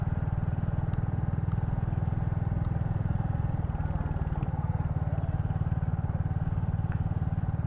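A Royal Enfield Hunter 350 motorcycle ridden at an even pace, its single-cylinder engine thumping in a rapid, steady beat close by, with a few faint clicks and rattles on top.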